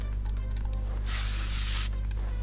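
Spray aimed at rusted car engine parts in a car-repair simulator game gives a single hissing burst of about a second, set against a steady low background hum.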